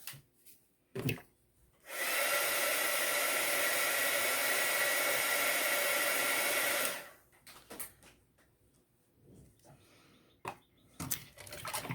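A hair dryer blows drying paint on a handmade clay spirit doll, switching on with a steady, loud whirring hiss for about five seconds before cutting off amid light handling noises.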